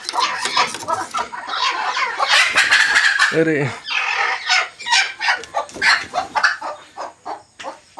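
Two hens clucking and squawking up close in a steady busy stream of calls, with a brief exclamation from a person partway through.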